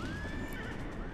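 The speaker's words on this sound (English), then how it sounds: "And I'm gonna get on my horse." In World of Warcraft, a fel steed horse mount whinnies as the character climbs on, a rising drawn-out neigh over a dense bed of game sound and hoof clatter.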